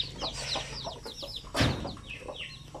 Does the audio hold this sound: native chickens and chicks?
yes